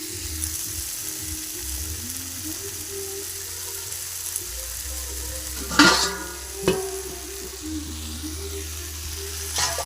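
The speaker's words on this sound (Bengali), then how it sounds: "ভালো করে কষিয়ে নেব।" Fish curry cooking in a pan with eggplant and potatoes gives a soft, low sizzle under a faint background hum, broken by a few sharp scraping clatters of a spatula stirring near the middle.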